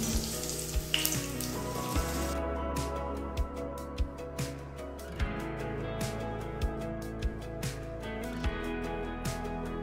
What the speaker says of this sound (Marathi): मस्त पैकी पुरी तळून तयार झालेली आहे